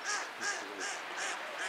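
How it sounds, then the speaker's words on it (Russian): Ducks quack repeatedly below at a city lake, five evenly spaced nasal calls about every 0.4 seconds, moderately distant, on a road trip near Samara. "Внизу крякают."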